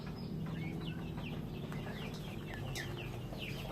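Backyard chickens clucking and chattering steadily at close range, a dense overlapping flock sound with soft chirps from chicks mixed in, no talking.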